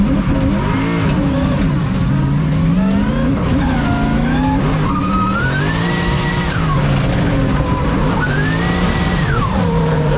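Drift cars compete at the Oman drift championship with loud, continuous engine roar, revving that rises and falls, and long tire squeals through the corners, heard close and unbroken throughout.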